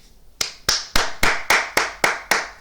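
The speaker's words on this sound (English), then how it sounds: "Clap for you." Eight sharp hand claps ring out alone at a slow, even pace, each crisp and close with a short decay and nothing else in the background.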